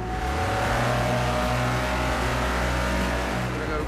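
A 1960s car drives at the Goodwood Festival of Speed 2012. Its engine holds a steady, close, droning note throughout, with no break in the sound.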